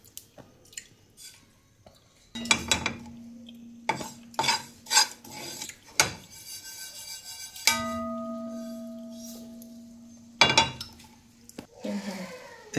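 Ajwain seeds dry roasting in a pan, stirred with a spoon in short bursts of scraping and rattling, with quiet gaps and a faint hum between strokes.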